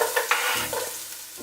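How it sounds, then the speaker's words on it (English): Onions and carrots fry in a pan with a loud, steady broadband sizzle and brief stirring scrapes, close and alone with no voices. "we're going to throw in our onions and our carrots. You just want to let them cook"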